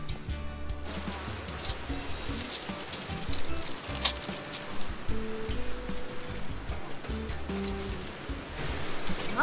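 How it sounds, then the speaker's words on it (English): Large ocean waves crash and surge against the Oregon coast near a lighthouse, a continuous loud roar of surf with heavier breaking swells rising at intervals, with faint voices in the background. "these waves are ginormous"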